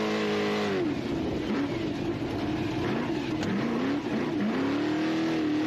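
An off-road race car engine in the Big Desert 480 desert race, a loud engine whine rising and falling through gear changes as it revs hard and passes, steady and close throughout.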